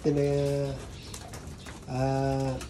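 Two drawn-out pigeon coos, close and clear, separated by a short pause filled with faint background noise.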